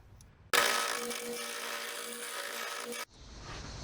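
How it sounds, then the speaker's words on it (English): A wooden block for a replacement kitchen chair part is shaved into a cylinder on a lathe, a steady, loud rasping cut that holds for about two and a half seconds, then stops abruptly, with no talking. "I'm just going back and forth to turn this block into a cylinder"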